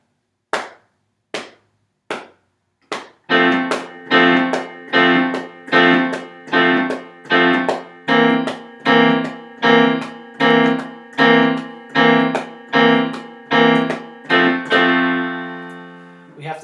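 A few sharp claps mark the beat, then piano block chords are struck on the off beats of "I Have a Little Dreidel" in a steady, evenly spaced rhythm, each short and punchy, ending on a held chord.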